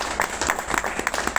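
Audience at a seminar in Bhiwani, Haryana, claps briefly, with a short burst of fairly close, irregular hand claps from a small crowd.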